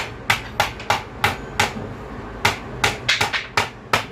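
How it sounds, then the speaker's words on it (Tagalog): Sharp hammer blows ring out one after another, about a dozen strikes at an uneven pace, close and loud with short pauses between. "Yan, pinupukpok na"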